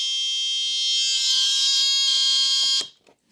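A homemade transistor burglar alarm buzzer running at about 5 volts gives a loud, piercing, high-pitched continuous tone that brightens partway through and then cuts off abruptly near the end.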